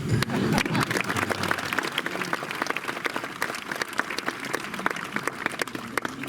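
Audience at a Hindi comedy poetry evening (hasya kavi sammelan) bursts into sustained applause, a dense wash of clapping filling the hall for several seconds with faint voices underneath.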